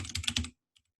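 Quick, soft keystrokes clatter on a computer keyboard for half a second, then stop, while working from home.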